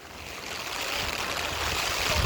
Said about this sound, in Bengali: প্রচণ্ড পানির স্রোত